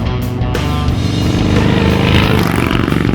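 Harley-Davidson Softail V-twin engine rumbling steadily and loudly up close, a dense continuous low throb that swells slightly over a few seconds, with music or mechanical clatter mixed in.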